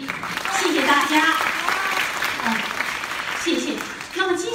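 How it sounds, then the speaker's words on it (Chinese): Teahouse audience claps during a folk ballad-singing performance, a moderately loud, swelling and easing patter of hands with a performer speaking over it throughout. "再次感谢热情的观众朋友给我的掌声鼓励"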